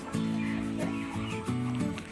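A native hen settled on a nest full of Rhode Island Red eggs gives a few close, soft clucks in short, uneven bursts, with no talking over it.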